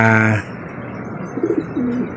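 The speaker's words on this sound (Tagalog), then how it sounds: "naglilimlim ang babaeng Bayo Pigeon" After a brief tonal hum cuts off, a pigeon coos softly nearby in a couple of low, throaty bursts.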